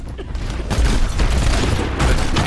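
Junkrat grenade spam in an Overwatch match: a dense barrage of overlapping explosive booms and bursts, loud and continuous, with faint voices in the mix.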